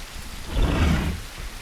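Steady rain patters and hisses in The Isle Evrima video game, where a bug makes the rain keep sounding after it has stopped. The wash swells slightly in the middle and has no voices over it.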